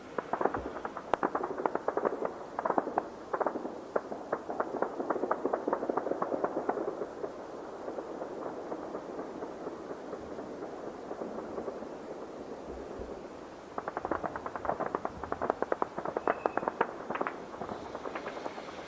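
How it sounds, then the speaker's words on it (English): Distant machine gun fire rattles in rapid bursts during an attack on Iran, a long volley followed by a lull and then renewed rapid popping, faint and echoing. "It sounds like machine gun fire."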